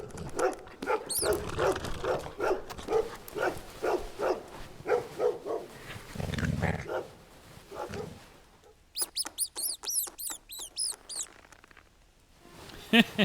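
A dog barking in the Christmas Stories: Nutcracker video game, a run of repeated bark-like calls over game music, with high chirping sounds joining later.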